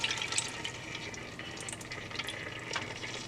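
Palm oil pours into a cooking pot on a stove while egusi soup is being made, a soft liquid splash and trickle lasting a few seconds at close range, with no talking.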